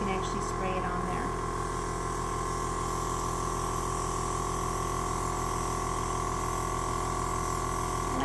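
A steady, airy hiss of an airbrush spraying yellow food color onto a fondant wedding cake, continuous and even against a low mechanical hum, close by.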